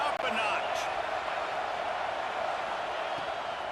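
A stadium crowd roars steadily throughout a Michigan at Michigan State college football video game, a dense continuous wash of cheering beneath a commentator's voice.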